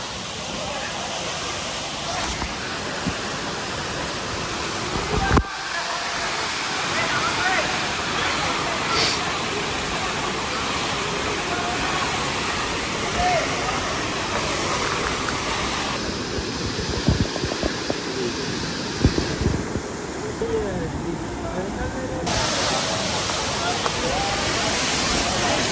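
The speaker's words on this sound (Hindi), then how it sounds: "तो ये रहा भाई टाइगर पॉइंट वाटरफॉल का खूबसूरत नज़ारा।" Tiger Point waterfall at Mainpat, Chhattisgarh, dropping some 80 to 90 feet, a loud, steady broadband roar of falling water that fills the whole stretch, with a person talking over it.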